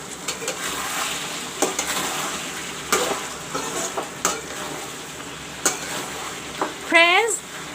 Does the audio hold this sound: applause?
no